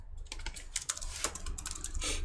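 Fast, loud typing on a faulty laptop keyboard, with a dense run of close key clicks over a low hum.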